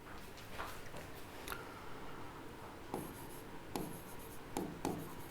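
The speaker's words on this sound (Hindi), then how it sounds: "यहां लिखता हूं" Chalk or marker scratching on a board during a chemistry lesson on acidic and basic oxides, made of short, irregular writing strokes with sharper taps near the end, close and steady over a faint room background with no speech.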